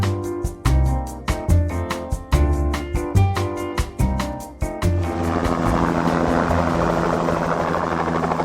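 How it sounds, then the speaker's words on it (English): A helicopter arrives at the Supai landing spot in Havasupai, Arizona, close and loud, its rotor beating in a strong rhythmic pulse that blurs into a continuous roaring whine as it settles. "This is where the helicopter is gonna land"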